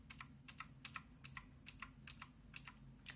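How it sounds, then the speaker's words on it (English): Keys of a Zero X08 mechanical keyboard fitted with rubber dampening rings are pressed about nine times at an even pace, each stroke a crisp but slightly muted click, close up over faint hum. "Then I have some keys as well with rubber rings."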